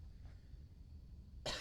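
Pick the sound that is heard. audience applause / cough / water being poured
cough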